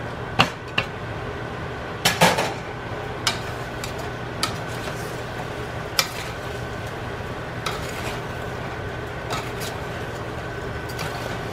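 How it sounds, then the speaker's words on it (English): Bertolli chicken carbonara stirred in a pan, with scattered sharp clinks and taps of a utensil against the pan over a soft background, some close together and others spaced seconds apart. "I'm gonna stir it up a little bit now."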